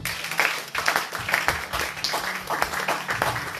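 A church congregation claps together in a dense, steady burst of many hands, moderately near and sustained throughout with no voices standing out.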